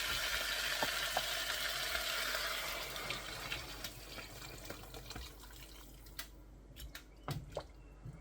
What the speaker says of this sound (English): I am now going to add in my vegetable stock.